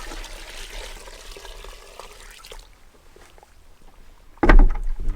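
Creek water is poured over chicken feed for fermenting, a soft trickle and slosh that quiets midway before a sudden loud splash near the end.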